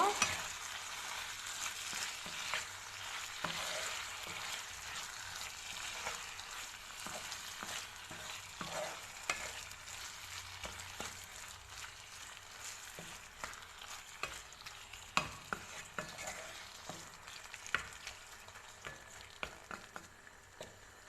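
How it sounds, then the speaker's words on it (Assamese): Okra fries and is stirred in hot oil with spices, a continuous soft sizzle broken by frequent scraping clicks of the spoon against the pan, close and fairly quiet. "এতিয়া আমি এতিয়া ভেন্দিখিনি দিম। ভেন্দিখিনি দি ধুনীয়াকৈ মিলাই দিব।"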